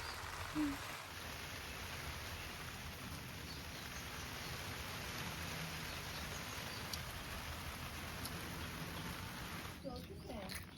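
Light rain patters softly and steadily throughout during an outdoor holiday picnic, with faint voices murmuring now and then.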